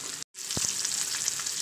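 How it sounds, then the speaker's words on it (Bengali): Tilapia fish frying in hot oil crackles with a steady, close sizzle after a brief moment of silence, with a couple of soft low thumps near the start. "তো আমি মাছটাকে ভাজতে দিয়ে দিয়েছি।"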